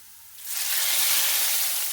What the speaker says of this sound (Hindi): इस तरह से तड़का लगाना है।